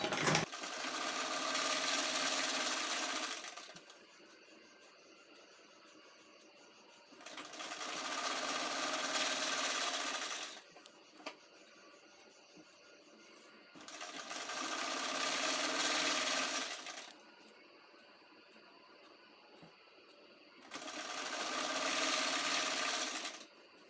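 A sewing machine stitches a fall onto a saree in four bursts of rapid whirring, each lasting a few seconds, separated by quiet pauses with faint handling noises.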